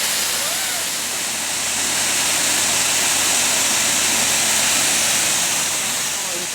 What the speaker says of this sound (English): we sprayed them both down at the car wash at a very high pressure